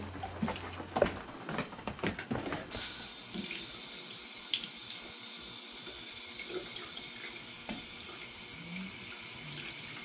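A sink tap is turned on for hand washing in a record shop's back-room bathroom after some handling and clatter, then water runs in a steady, close, rushing stream.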